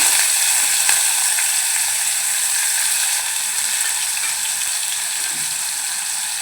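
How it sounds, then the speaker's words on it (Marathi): Finely chopped onion goes into hot oil already holding popped cumin and mustard seeds for a Malvani-style onion chana dal. A loud, steady, close sizzle runs the whole time with scattered crackles, and no one talks. "आता आपण जो कांदा घेतलाय बारीक चिरून तो घालून घेऊया"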